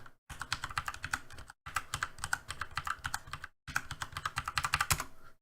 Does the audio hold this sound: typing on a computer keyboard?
yes